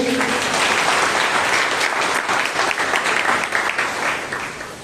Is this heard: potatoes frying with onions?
no